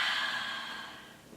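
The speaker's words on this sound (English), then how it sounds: "Inhale through your nose, big open mouth, exhale." A yoga instructor's long, open-mouthed exhale during a power flow class, a breathy rush that starts full and slowly fades over about a second and a half, close and alone with no talking.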